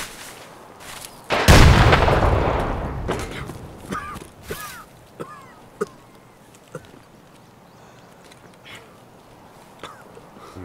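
A grenade explodes in Escape from Tarkov: one loud, sudden blast with a long decaying rumble, followed by scattered sharp gunshots and thuds fading into quieter background.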